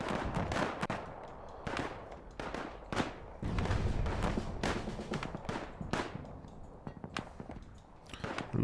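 WW1 artillery and gunfire in the real-time strategy game Dig In, a dense, continuous barrage of sharp bangs and rumbling blasts with irregular rhythm, loud and close, with no talk.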